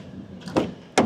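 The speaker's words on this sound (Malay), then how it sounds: "aku buka semua pintu dulu." A Jetour VT9 SUV car door opens with two short, fairly close mechanical clunks, the second sharper, against quiet surroundings.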